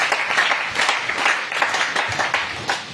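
Church congregation at a worship and testimony gathering in Grand-Bassam claps steadily throughout, a dense wash of hand claps with faint voices mixed in.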